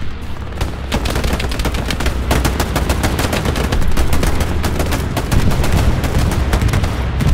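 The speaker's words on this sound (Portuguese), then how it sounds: "Jogaram a artilharia na praia" Battlefield gunfire on a beach in Hell Let Loose: relentless rapid automatic shots, loud and near, with heavy low rumbling beneath that could be artillery, continuous throughout with no talk.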